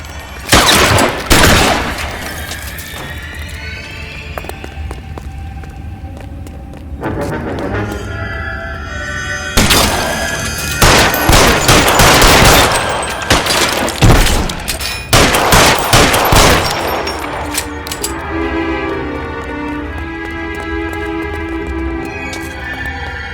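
Gunfire in the LA Noire remaster video game, several loud bursts and sharp reports scattered through a busy, dense mix of game sound.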